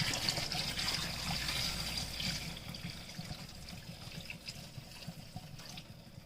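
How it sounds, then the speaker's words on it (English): Water trickling and splashing into a cooking pot on a home stove, a soft continuous pour that is fuller at the start and gradually thins and fades, with no talking. "you can add more water"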